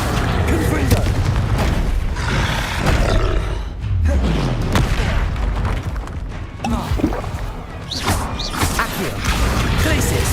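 Confringo fire-blast spell cast during combat in Hogwarts Legacy: heavy booms and roaring bursts amid a busy fight, with several other spells and a voice calling out over the chaos.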